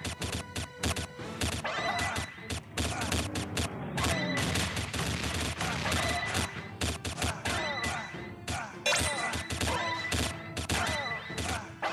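Gunfire in the Metal Squad video game, rapid crackling shots and bursts layered with game effects, continuous and fairly loud throughout.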